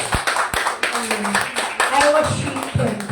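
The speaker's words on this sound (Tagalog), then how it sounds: "ang palakpak na malakas sa Diyos lamang" A church congregation claps loudly during a Sunday service, with dense, overlapping hand claps running throughout beneath continuous talking and voices.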